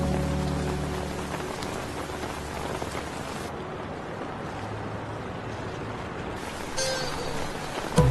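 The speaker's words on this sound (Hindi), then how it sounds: "मुझे पता है बारिश हो रही है" Heavy rain pours down in a steady, dense, close-up roar that holds level from start to finish, with a faint low rumble underneath.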